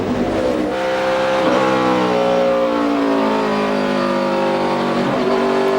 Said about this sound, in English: Motor sounds fine here.